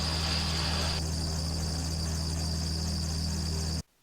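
A gyrocopter's rotor is spun up by pre-rotation on the ground, giving a steady loud engine drone with a low buzzing harmonic whine that holds evenly and then cuts off abruptly near the end.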